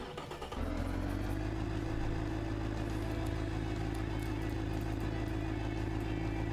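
A simulated car engine running on a dyno in the game Automation, starting up after a brief quiet moment and then holding a loud, steady drone with a low rumble for the rest of the clip.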